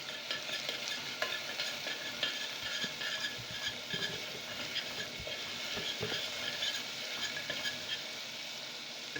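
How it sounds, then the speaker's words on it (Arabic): Minced garlic sizzles and crackles steadily in a hot frying pan while it is stirred, with scraping strokes over a constant, fairly loud frying hiss and no voices. "نحط التومه بسم الله. معايا التومه نقلبها."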